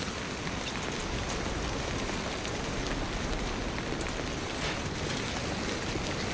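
Steady, dense rainfall of Timefall in the Death Stranding 2 VR game, a constant wash of drops on surfaces filling the whole stretch with no pauses and no voices.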